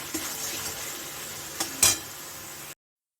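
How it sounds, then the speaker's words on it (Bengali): Masala for a raw banana kofta curry fries in oil in a pan, giving a steady sizzling hiss with a couple of utensil clinks and scrapes before the sound stops abruptly. "দেখো তেলটা ছেড়ে দিয়েছে এখন আরেকটু আমি একটু ভেজে নেবো"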